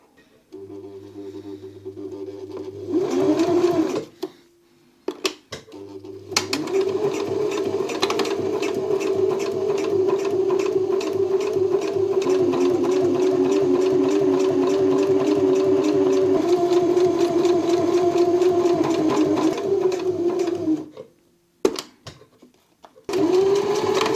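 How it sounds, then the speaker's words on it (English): Sewing machine fitted with a zipper foot stitching fabric for a custom bike frame pack, a close steady motor whir running in long bursts with brief stops between them. "Let's go to the sewing machine."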